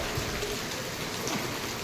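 Steady rain hisses over a farm in Ranpur, a dense, even wash of falling water with no voices over it.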